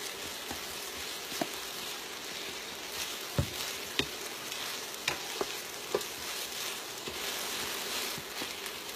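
Garlic tossed into long grain rice frying in a pan and stirred constantly, a dense continuous sizzle and crackle with scattered scraping clicks of the spoon, close and steady, with no talking.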